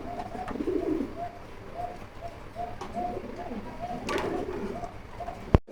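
Pigeons on a pigeon farm coo in repeated soft, rhythmic calls close by, with a sharp knock near the end and faint background sounds.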